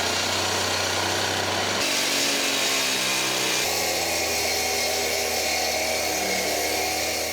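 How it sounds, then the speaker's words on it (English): A gas-powered 14-inch demolition saw with a diamond blade cuts through a mural wall, giving a loud, continuous high-revving whine that holds steady across the whole stretch with slight shifts in pitch. "Tom Nudd saw cut the mural in half with a gas-powered 14-inch electric demo saw with a diamond blade"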